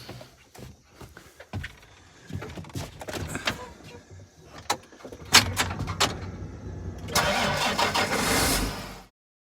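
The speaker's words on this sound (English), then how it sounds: "get the old 8230 fired up. Let her warm up a minute." A John Deere 8230 tractor engine cranks and fires up on a farm before corn shelling, turning over amid clanks and door thumps, then settling into a loud, steady idle as it warms up, with no talking.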